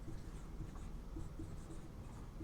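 Pen writing a definition during a physics lesson, with soft scratchy strokes close up and quiet, continuous and faint, with no talking.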